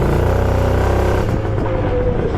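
An Italjet Dragster 180 scooter fitted with Malossi rollers runs close by, its engine holding a loud, steady buzzing rev throughout with no pauses.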